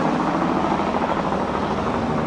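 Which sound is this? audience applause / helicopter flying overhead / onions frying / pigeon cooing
helicopter flying overhead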